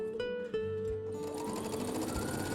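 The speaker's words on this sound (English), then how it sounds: "fold the edge toward the wrong side and stitch about 2 to 3 mm from the folded edge" A sewing machine stitches a narrow baby rolled hem on fabric, a close steady mechanical whir that settles into a fast even rhythm after a brief start.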